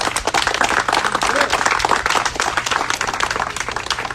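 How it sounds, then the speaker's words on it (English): A crowd gives a loud, sustained round of applause, dense clapping close up and even throughout, with a few voices mixed in. "Let's give them a great round of applause"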